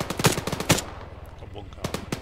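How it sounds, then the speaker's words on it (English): Automatic gunfire in the military shooter game Antistasi Plus, loud rapid bursts of shots with a pause between volleys, close and sharp. "I can see where the gunfire was coming from."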